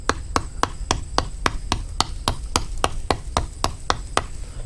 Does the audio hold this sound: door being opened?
no